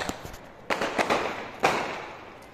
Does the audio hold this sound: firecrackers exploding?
yes